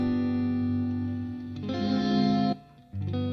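A guitar is played through a Boss RV-200 reverb pedal with a sustained chord ringing, then the pedal is switched off and the reverb tail cuts out abruptly, leaving a short quiet gap before the chord resumes dry.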